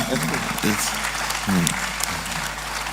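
Audience applause rising in a steady wash of clapping across the whole moment, with a voice talking over it.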